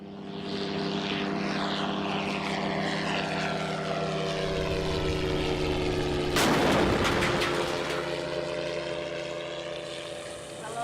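A propeller aircraft drones loudly and steadily overhead before a sudden heavy drone-strike blast bursts out midway, its boom rolling over the continuing engine hum and slowly dying away.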